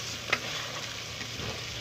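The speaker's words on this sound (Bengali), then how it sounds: "লাল লঙ্কা দিয়ে দিলাম, হলুদ দিয়ে দিলাম, তো ভালো করে কষে নেব" Faint, steady sizzling of red chili and turmeric frying in hot oil, with soft scraping from stirring and one brief sharper click near the start.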